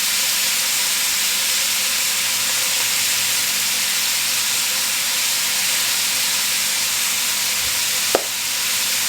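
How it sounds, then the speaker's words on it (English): Beef tips seasoned with salt and pepper sizzling steadily in a hot pan, a constant close hiss of searing with no talking, and a brief clatter near the end as the pieces are tossed. "you're just going to cook these and toss them occasionally until they get really brown and seared on all sides"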